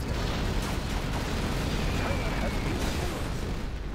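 A Chinese nuclear missile launching in Command & Conquer Generals Zero Hour, a dense, loud roaring blast that rumbles on steadily for several seconds with crackling bursts and a voice under the din.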